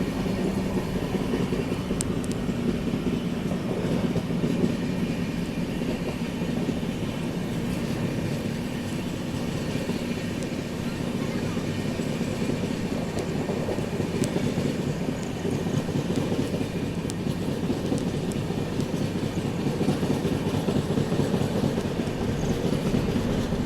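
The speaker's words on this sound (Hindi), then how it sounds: "अपनी ट्रेन अभी सूबेदारगंज रेलवे स्टेशन को स्किप कर रही है" The Vikramshila Express runs past Subedarganj railway station at night, giving a dense, continuous rumble and rhythmic clickety-clack of wheels on track, loud and steady throughout with no voices.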